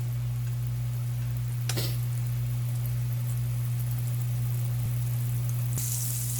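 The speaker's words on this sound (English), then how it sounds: "Make sure we melt our butter" Butter melting in a pan before bread goes in to toast, with a soft, steady sizzle over a loud constant electrical hum and a couple of brief clicks.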